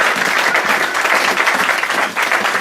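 Applause from a church congregation fills the space, a dense, steady clapping that holds at full strength from start to finish with no pauses.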